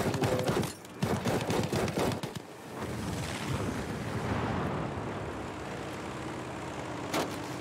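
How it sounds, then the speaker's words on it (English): Rapid bursts of gunfire crackle in the World War II shooter Battlefield V, with dense, loud volleys for the first couple of seconds that then give way to a continuous heavy roar and one last sharp crack near the end. "Oh, they're shooting me!"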